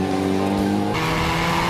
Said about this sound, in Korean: 이런 식으로 N 모드로 놓고 주행을 했을 때 배기 소리가 나게 되는 거죠.